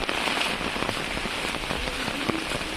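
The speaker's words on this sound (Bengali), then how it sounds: "এত জোরে বৃষ্টি হচ্ছে, ছাতা দিয়ে জল পড়ছে।" Heavy rain drums on an umbrella on a rainy day in the countryside, a dense, steady patter close overhead that carries on without a break.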